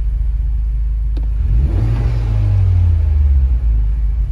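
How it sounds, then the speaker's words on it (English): A stock Honda Civic Type R, FK2/FK8 generation, rumbling at idle before its engine revs up in one swelling, sustained rise and then slowly settles, heard close and loud. "So this is a stock Type R right here. I'm gonna kinda give it a rev"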